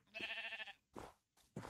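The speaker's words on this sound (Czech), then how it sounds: "Kde je ta další ovce?" Sheep bleating in a cold winter farm setting: one long wavering bleat followed by two short clipped calls, close and fairly quiet, with no talk.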